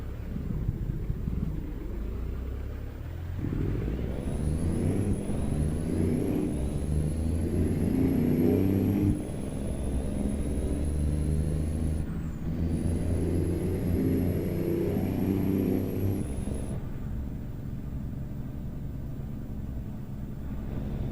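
A truck engine in American Truck Simulator rumbles steadily, revving up and holding a deep drone through two long pulls, with a thin high whine over the engine noise.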